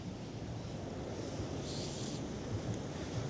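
Rough winter sea at Blackpool in December, a steady wash of surf and breaking waves, with strong wind buffeting the microphone and no voices.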